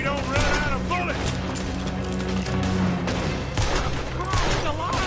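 A dense shootout in the video game Red Dead Redemption 2 crackles with rapid overlapping gunshots and a few booms, while characters shout and talk over the continuous fire.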